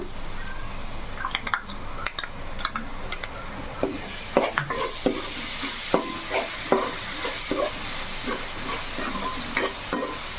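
Masala paste sizzles and fries in a pan while a spoon stirs it steadily, with repeated scraping and clinking against the metal close up and no talking.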